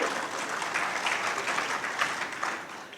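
Short burst of audience applause at a motivational talk, dense steady clapping from a crowd, loud and continuous before fading slightly at the end.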